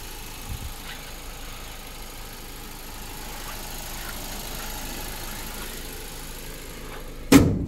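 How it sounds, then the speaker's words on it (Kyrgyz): A Samsung Renault SM6 with a GDI petrol engine idles quietly and evenly at close range, a low steady hum with faint ticks, ending in a sudden loud thump like a door. "Так, мына ушундай мотор. GDI деген мотор экен"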